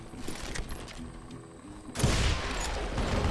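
A gun being reloaded in Call of Juarez: Gunslinger, with mechanical clicks and rattles, followed by a loud, dense burst of gunfire or action that keeps going to the end.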